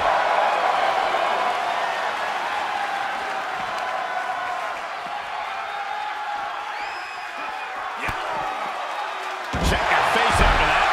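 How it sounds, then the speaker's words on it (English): Loud, sustained cheering from a wrestling arena crowd, a dense steady roar with whoops rising above it and a sharp thud near the end, while a commentator talks over it. "The sound of this crowd is deafening"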